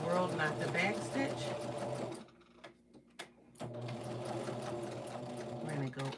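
A sewing machine runs steadily as it sews a back stitch, with a brief pause mid-way before the needle whirs back up to speed; close and fairly loud, with no talking.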